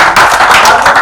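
Audience applause at a Hindi poetry recital, a brief burst of dense, steady clapping heard close and loud.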